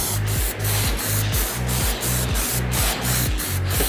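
Aerosol Plasti Dip sprays onto a motorcycle helmet in a steady loud hiss, broken by short regular pauses as the can sweeps back and forth in repeated passes.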